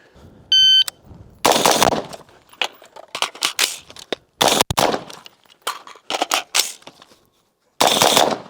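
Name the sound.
Daniel Defense rifle firing rounds at a target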